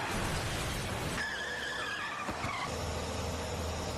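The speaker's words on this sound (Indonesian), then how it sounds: "Tak diduga, sebuah mobil menabrak mobil Jung-do karena ia tak fokus menyetir" A car skids in a film scene, a loud tire screech under a dense roar, followed by a brief impact thud and continued rumbling noise.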